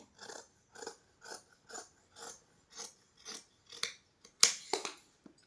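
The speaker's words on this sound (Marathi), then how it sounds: "आकार देऊन झाल्याच्या नंतर मी याची लगेच कटिंग करते" Scissors cut through fabric for a four-tuck blouse in a steady rhythm of about ten close, crisp snips, ending in a couple of louder, quicker cuts.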